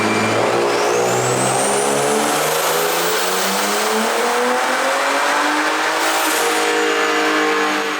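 A big-turbo BMW F30 335i revs hard on a dyno, its engine note climbing steadily through a long, loud, continuous pull with a rising whine, then easing slightly near the end, with no voices.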